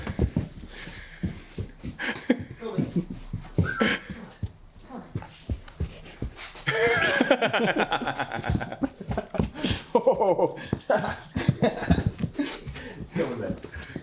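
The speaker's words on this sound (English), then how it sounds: "That's the other training dog that we've got around here." A training dog indoors during a home climbing workout, whimpering, yipping and panting in short bursts, close by, mixed with people talking and laughing throughout.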